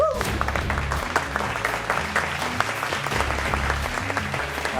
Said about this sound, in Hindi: तो आपकी तालियों में तशरीफ ला रही नेहा अली।